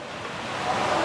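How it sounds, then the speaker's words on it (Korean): A steady, hollow rush of water flowing below in a cave in Gangwon-do, distant and muffled, filling the space evenly and swelling slightly toward the end. "물은 안 보이고, 물소리만 저 밑에서"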